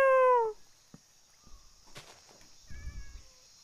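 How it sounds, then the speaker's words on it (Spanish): A cat meowing in Minecraft, one loud clear falling meow at the start, then faint shuffling and a softer second meow near the end. "Un gato, me lo llevo."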